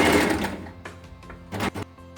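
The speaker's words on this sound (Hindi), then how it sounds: "चलिए सिलाई लगाते हैं।" A sewing machine, set to a long stitch length, runs a gathering stitch for a ruffle neck top in short whirring bursts, with a brief stop and then another quick run of stitches.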